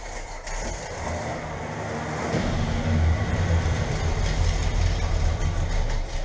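A Chevrolet Chevelle engine idles in a steady, low, rumbling drone that swells slightly louder partway through and then holds, with no talking.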